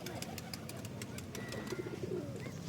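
Pigeons inside a coop with eggs and chicks, softly cooing amid faint rustling and background noise, calls low and intermittent.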